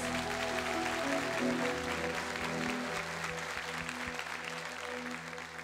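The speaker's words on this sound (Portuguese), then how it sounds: "Pode aplaudir o nosso Deus." A church crowd claps steadily and warmly throughout a worship night, with sustained musical tones ringing underneath the applause.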